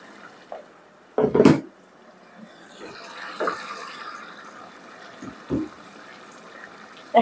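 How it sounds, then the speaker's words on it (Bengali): Water poured from a tap or jug onto chicken in a pot while cooking, a short loud gush early on, followed by quieter kitchen clatter and a few small splashes. "একটু জল দিলাইলাম চিকেনের মাঝে"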